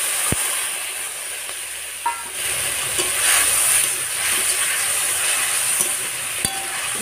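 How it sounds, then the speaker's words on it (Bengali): Spice paste with red chilli powder and a splash of water frying in a pan for a prawn and pointed gourd curry, a dense continuous sizzle and bubbling up close, with occasional sharp clicks of stirring. "ভালো করে মশলাটা কষতে হবে জলটা দিয়ে।"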